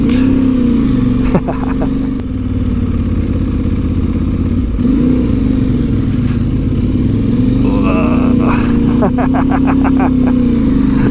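An Aprilia Tuareg 660 adventure motorcycle on a ride in the Brecon Beacons gives a loud, steady engine drone with small shifts in pitch, under wind rumble and a few rattling clatters.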